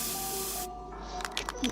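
Spray paint hisses out in a short burst in a multiplayer horror video game, a broadband spray for the first part of the clip that then cuts off, followed by a few faint clicks and small game sounds.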